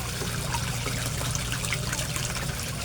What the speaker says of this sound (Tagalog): I-on natin yung aerator ha.